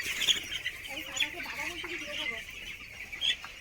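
Young chicks and hens on a farm cluck and cheep in a busy, overlapping chorus, with a few sharper peeps standing out and a voice talking over them.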